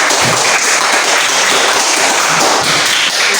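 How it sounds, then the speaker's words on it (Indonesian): A class of students applauding a discussion group at the end of its presentation, dense steady clapping filling the room, loud and close, with no talk over it. "tepuk tangan untuk kelompok"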